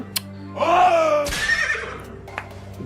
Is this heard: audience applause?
no